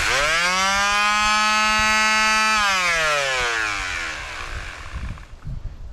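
A Craftsman 4.5-inch palm sander powered through an inverter whines loudly with a steady motor hum, then drops in pitch and winds down to a stop, leaving faint background noise.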